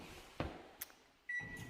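Short electronic beeps from the control panel of a microwave oven in a newly built house's kitchen, a few faint isolated tones with a sustained beep near the end, in a quiet room without talk.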